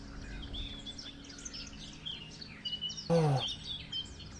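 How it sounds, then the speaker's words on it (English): Peaceful bird chirps and tweets from the Silent Hill 3 game soundtrack play steadily over a low hum, with a louder, brief swooping tone cutting in partway through. "Cue the peaceful bird sounds."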